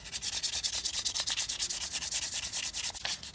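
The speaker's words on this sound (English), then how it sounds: "sanding both sides with the lower grit, and now I'm going with the highest grit" A knife handle is sanded by hand with high-grit 400 sandpaper, giving a steady rhythmic rasping stroke, close and fairly quiet, repeating about eight times per second with no talk.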